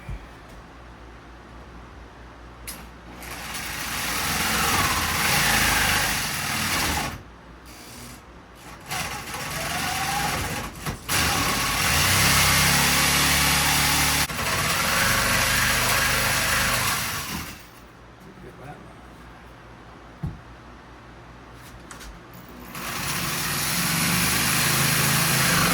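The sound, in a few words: jigsaw cutting wood for a picture frame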